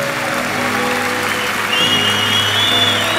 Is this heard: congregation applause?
yes